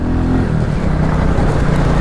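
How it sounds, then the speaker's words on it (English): Royal Enfield Classic 350 single-cylinder motorcycle running off-road, a loud, steady, close engine drone with a rough low rumble and wind noise, no voices. "It actually make a good off-road engine, this, a good trail bike engine. Lovely and smooth and tractable."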